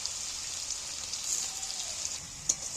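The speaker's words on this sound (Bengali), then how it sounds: "আরও একটু লাল লাল করে ভাজি আলুগুলোকে" Potatoes fry in a pan with a steady, fine crackling sizzle up close, and a single sharp tick from a utensil can be heard near the end.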